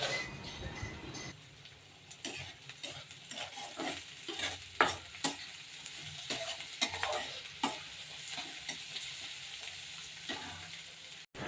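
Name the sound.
onion, peanuts, green chili, curry leaves, cumin, mustard frying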